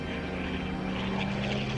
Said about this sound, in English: The plane stalled and tumbled from the sky.